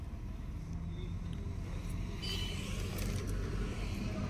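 Steady low engine rumble from inside a moving car, with road and wind noise swelling slightly partway through; no talking.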